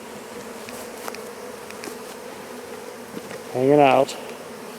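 Honey bees hang around the front of a nuc box. A faint, steady hum of scattered bees gives way to one close, loud buzz as a bee passes near, and a voice speaks briefly.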